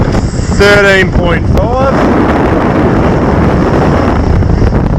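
Wind roars steadily against the microphone aboard a sailboat on a beam reach among the Abaco Islands in the Bahamas. A voice speaks briefly near the start of the loud buffeting.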